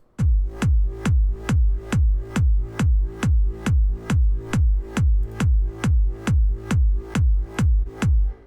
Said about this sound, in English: This bass is more common in the old school type of trance